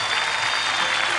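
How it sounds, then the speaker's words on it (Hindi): A large audience at a TV awards show breaks into a short burst of continuous applause, a dense wash of clapping at moderate loudness. "जोरदार तालियां जी के सभी पात्रों के लिए"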